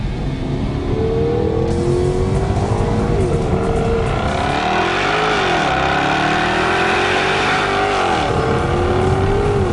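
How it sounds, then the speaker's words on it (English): A 2014 Jaguar XKR-S with a 5-litre supercharged V8 roars deep and loud continuously, its pitch climbing and dipping as it revs and shifts, heard close and from inside the car. "any car like this with a big 5-litre supercharged V8 that you have to love, it's the noise"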